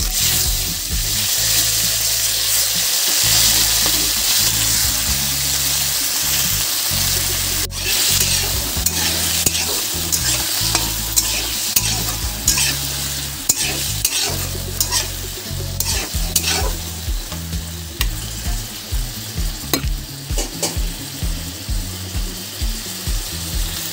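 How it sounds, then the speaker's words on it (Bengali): Loud continuous sizzling of prawns frying in hot oil, with repeated scraping and clattering of a spatula stirring in the pan, close up. "তো চলো মাছগুলোকে ভেজে নিই"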